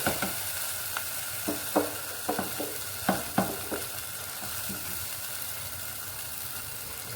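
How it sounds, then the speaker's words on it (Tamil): Eggs poured into a hot oiled pan for egg Maggi noodles sizzle steadily, with a run of sharp crackles and pops over a constant frying hiss, close and clear with no talking. "முட்டை 2 முட்டை ஊற்றுறேங்க"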